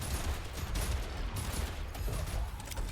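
Rapid mecha gunfire from Super Mecha Champions, a dense, steady burst of shots rattling continuously for the full three seconds with no talk.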